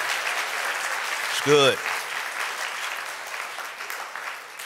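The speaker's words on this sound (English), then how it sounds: "give them a round of applause and thank them for their ministry" A church audience gives a round of applause for their campus pastors: a steady, moderate wash of clapping runs throughout, with a brief spoken voice rising over it midway.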